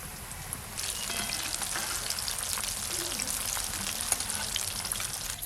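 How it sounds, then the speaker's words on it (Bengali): Coated chicken pieces fry in only lightly heated oil, giving a steady, close hiss with fine crackles that swells after a quieter start and carries on evenly. "চার পিস করে ভেজে নেব"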